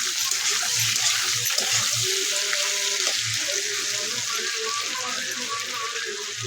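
Fish frying in hot oil in a home kitchen, a steady bright sizzle with bubbling and spattering throughout, while people talk over it.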